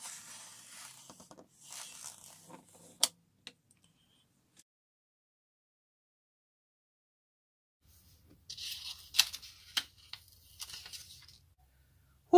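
A CM circle cutter slicing through paper: quiet scraping, tearing strokes in two bursts with sharp clicks, separated by a long near-silent gap.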